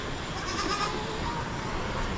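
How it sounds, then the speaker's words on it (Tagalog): A farm goat bleats, a drawn-out wavering call near the start set against steady outdoor background noise, with no one talking. "yung isa nating kambing na si Dayan"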